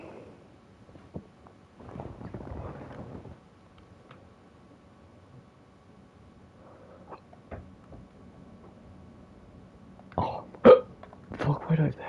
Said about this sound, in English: why do I have the hiccups though?